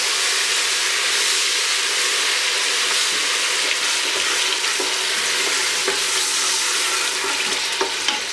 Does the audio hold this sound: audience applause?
no